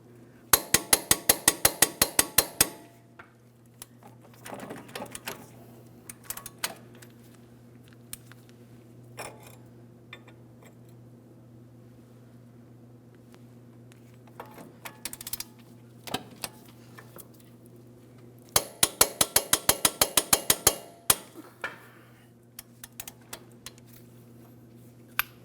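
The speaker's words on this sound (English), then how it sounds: "We'll be torquing this to 162 foot-pounds." A torque wrench tightens a wheel hub bolt on a 2003-2008 Toyota Matrix in two bursts of rapid, crisp ratchet clicks, with scattered clanks and taps of tools between them over a steady low hum.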